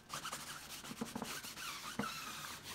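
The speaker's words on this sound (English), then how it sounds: "We take a sponge, we just go over it first to loosen everything up." A sponge soaked in lacquer thinner is wiped across a tire, making a close, steady scrubbing rub with a few short louder swipes and no talk.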